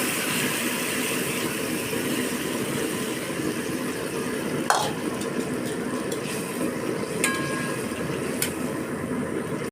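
Chopped bottle gourd goes into hot oil in a pan and is stirred, giving a loud, dense, steady hiss with a few sharp clatters of the utensil against the pan.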